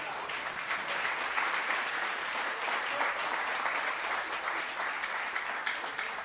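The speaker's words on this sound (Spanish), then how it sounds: "Denle un aplauso fuerte al Rey de la Gloria." A church congregation applauds loudly during a sermon, a steady dense roar of many hands clapping throughout, slightly distant and continuous.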